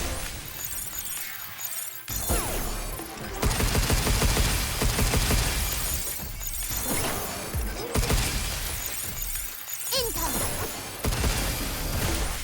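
Video game gunfire in a boss fight, bursts of loud rapid shots mixed with shattering and crashing impacts, close and dense with brief gaps between volleys.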